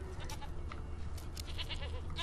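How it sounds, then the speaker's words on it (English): A goat bleats in The Witcher 3, a few short wavering cries heard at moderate distance inside a cave, set against a low steady ambient hum with no talking. "There's definitely a goat around somewhere."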